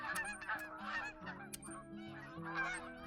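Canada geese honk repeatedly and loudly in the hunting game theHunter: Call of the Wild, nasal overlapping calls rising and falling in quick succession with no talking.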